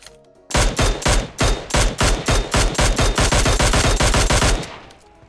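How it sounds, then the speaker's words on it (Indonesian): Rapid automatic gunfire in PUBG Mobile, a loud continuous burst of closely spaced shots lasting several seconds, then cutting off abruptly. "Mana lagi tuh yang nembak gua?"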